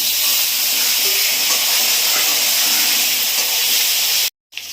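Eggplant pieces, added with potatoes, hiss and sizzle loudly in hot oil for a hilsa curry. The steady, dense frying crackle is close and continuous, then cuts off abruptly near the end.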